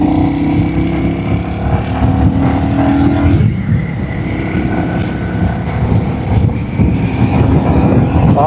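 A Royal Enfield Classic 350 Gorkha Edition motorcycle cruising along a road, its engine droning steadily with a shift in pitch partway through, wind noise mixed in, close and loud with no talk.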